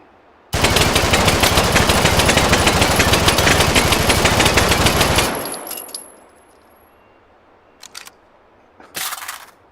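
A 7.62 automatic gun in a video game fires a long, unbroken rapid burst for about five seconds at close range, then cuts off and leaves a few brief, softer clicks and clatters.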